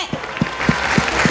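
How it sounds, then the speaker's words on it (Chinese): Short burst of clapping for a colleague in a CTi News television studio, with a handful of evenly spaced claps, close and moderately loud, over a faint background murmur. "我们给文倩姐一个掌声"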